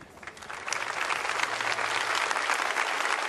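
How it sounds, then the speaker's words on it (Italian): Theatre audience in the stalls breaks into applause for a performer entering a Naples stage show: clapping begins somewhat softer, then swells into a full, steady roar of many hands that holds to the end. "Partono gli applausi"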